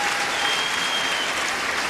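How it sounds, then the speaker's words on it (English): Audience at a 2011 badminton world championships semi-final applauds after a rally, giving a dense burst of clapping that holds steady and loud for the whole stretch. "Suetsuna's joining in the applause there."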